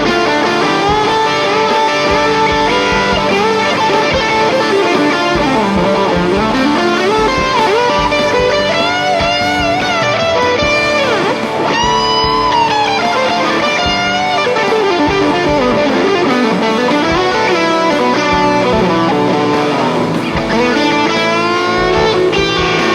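A loud electric guitar through a Boss Blues Driver overdrive pedal plays a continuous melodic passage, with sustained distorted notes and bends throughout, with no voices.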